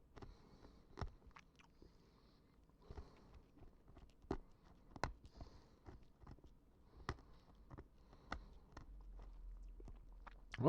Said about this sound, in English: We're gonna give it a crunch test still.